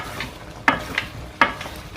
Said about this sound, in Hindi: हिलाते जाएं जी, कंटिन्यू हिलाना है इसको जब तक ऑयल नहीं छोड़ता